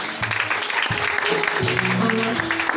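A church congregation applauds and cheers for Jesus in dense, continuous clapping. Voices are mixed in and sustained, with tonal singing or shouts running under the applause throughout.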